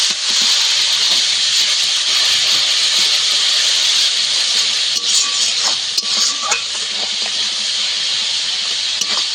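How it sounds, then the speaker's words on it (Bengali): A splash of water hits a frying spice masala for a Bengali duck egg kosha, producing a loud, continuous hiss and steamy sizzle with a few faint clinks of the spoon near the end. "সামান্য জল দেব মশলাতে।"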